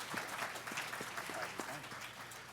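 Applause from a panel-discussion audience, a steady wash of many hands clapping at moderate distance with a little voice mixed in, lasting the whole short stretch.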